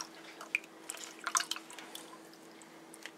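Garlic-infused oil drips and trickles through a funnel and strainer, producing faint, irregular droplet plinks and light liquid sounds close by in a quiet room.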